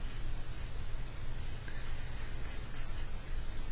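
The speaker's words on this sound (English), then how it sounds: "Drawing my koi fish in here." A pencil drawing a koi fish outline on paper, a soft continuous scratchy stroke texture close up, steady and faint with no talking.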